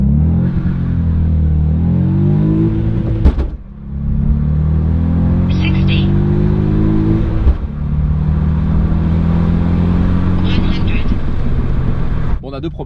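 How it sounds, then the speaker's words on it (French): A Stage 3 tuned car's engine hums low and steady, then revs up in rising pulls between gear changes during a launch, with brief dips and a clunk, loud and close. "Tu dois l'entendre quand je pars. T'as vu, le moteur il s'assoit."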